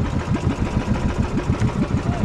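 An old, rusty engine on a large wooden boat idles in a steady, loud chugging rhythm, a close mid-pitched putter running throughout without pause.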